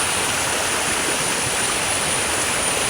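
A stream rushes over rocks near a waterfall, a loud, steady, unbroken roar of flowing water close by with no voices.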